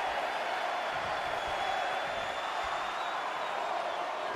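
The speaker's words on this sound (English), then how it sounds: "Listen to this crowd count the next one in." A large arena crowd in the WWE 2K20 Royal Rumble wrestling video game keeps up a steady, dense roar throughout, with no clear individual voices.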